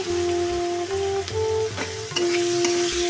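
Spices and Kashmiri red chilli powder frying and being stirred in a pan on a gas flame for a katla fish curry with cauliflower, a close, continuous sizzle with scraping stirs throughout.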